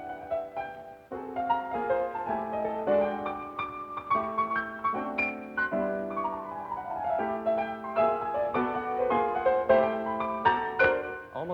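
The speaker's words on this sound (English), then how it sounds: "a cool progressive cat is playing it on the piano in Birdland, it might sound something like this" Jazz piano in a cool progressive Birdland style, with full chords and busy runs moving steadily and loud throughout, no voices.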